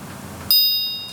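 A phone notification ding sounds as a confirmation code arrives during online signing of a rental apartment contract: a single bright chime that cuts in sharply and rings out with a slow decay, clear and close.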